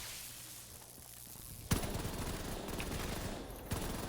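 Rapid automatic gunfire from an infinite-ammo weapon in Black Ops 3 zombies mode, a dense rattling burst that starts abruptly after quieter game ambience and continues steadily, with a sharper shot near the end.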